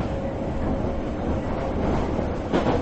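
A train rolls steadily along in a Korean RPG Maker horror game, a constant low rumbling drone with a slight swell near the end and no talking.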